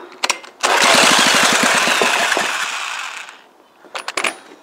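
A small petrol engine with its spark lead disconnected fires into a loud, rough burst of rapid knocking beats for about three seconds, fades, then gives a few short sputters.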